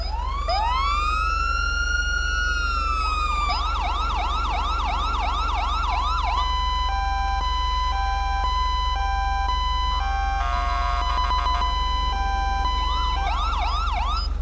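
A police SUV siren in the FiveM game cycles through rising wails, fast yelping whoops and steady two-tone blasts, loud and close over a constant low engine drone, with no talk.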